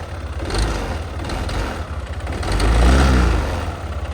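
Yamaha Nmax 155 scooter engine with water mixed into its oil and suspected cylinder and piston damage, revving up twice, the second rise louder and longer, close by with no talk.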